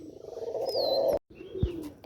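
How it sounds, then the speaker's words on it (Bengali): Soft, low cooing from a white dove, a throaty rolling call repeated briefly with a short gap, close by and fairly quiet. "এই দেখো ঘুঘু পাখি খাচ্ছে"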